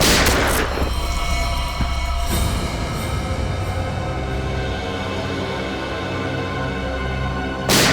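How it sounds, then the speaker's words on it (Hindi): A few sharp, booming gunshot bursts in a TV crime drama scene, one at the start, another a couple of seconds later and one at the end, over loud, dense background music. "दया गोली चलाओ उस पर, चलाओ गोली, चलाओ गोली।"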